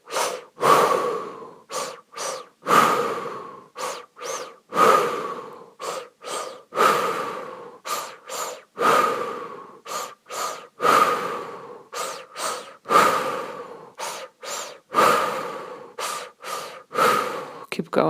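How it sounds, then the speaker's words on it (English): Slow, steady mouth breathing, each deep inhale followed by a long audible exhale, repeating about every two seconds for the whole stretch, close and clear with nothing else heard, during a guided anxiety-relief breathing session. "Inhales and exhales through your mouth."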